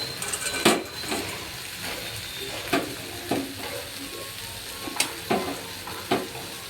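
Soaked puffed rice is stirred into a sizzling pan, with a soft frying hiss underneath and sharp spoon scrapes and clacks against the pan at irregular intervals, close and fairly quiet.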